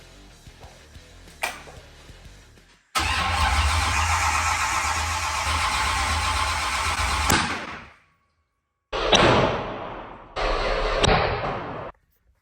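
A supercharged 1956 Chevy engine, run for the first time, fires with a sudden, very loud roar that holds for about four seconds, cuts out, then barks back in two shorter, harsh bursts, with no talking over it.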